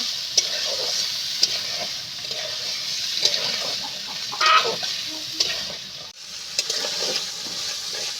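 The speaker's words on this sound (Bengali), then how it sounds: "মটরটা মশলার সঙ্গে আমি এক দু মিনিটের মতো কষি নিয়েছি এইভাবে সুন্দর মতো করে" Soaked peas being fried with spices in a pan, with a soft continuous sizzle and repeated scraping and clinking of a spoon at uneven intervals, plus one louder stirring burst, and no talk.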